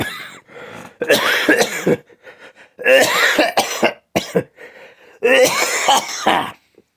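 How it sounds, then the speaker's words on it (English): A person coughs repeatedly in three harsh bursts, close to the microphone, with brief pauses and throat clearing between them. "I started coughing for some reason."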